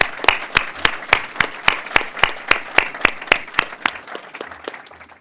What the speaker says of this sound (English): Please give a round of applause for all of our distinguished guests